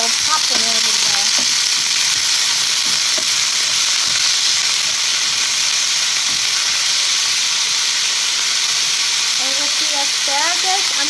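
Asparagus fries in hot oil with a loud, continuous sizzle and crackle of popping oil. It runs steadily and close throughout, with a few faint tonal sounds near the start and the end.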